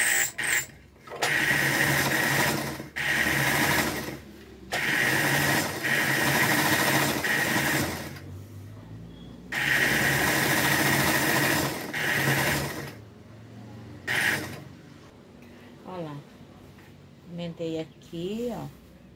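Sewing machine stitching fabric scraps together for a rag rug, running in long loud whirring bursts separated by brief pauses, with someone talking near the end.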